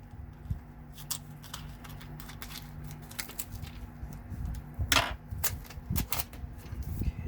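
Scissors snip resin tape for making UV resin holly berry earrings, a series of sharp close clicks and short cuts scattered irregularly over a quiet background.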